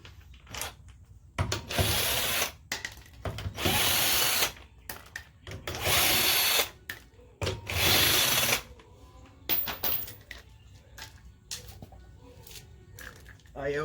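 A socket tool, likely an impact driver with a 19 mm socket, spins off the lug nuts on a 2006-2011 Honda Civic wheel in several loud bursts separated by short pauses, close and with brief clatter between runs.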